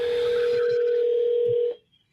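A steady electronic telephone tone held for nearly two seconds during a cold call, then cut off abruptly, leaving near silence.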